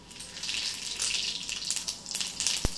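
Cumin seeds dropped into about three ladles of hot oil for a cluster bean (gavar) curry, giving a steady, close, hissing sizzle with crackling pops and a brief sharp clink near the end, no voices.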